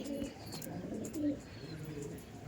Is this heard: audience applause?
no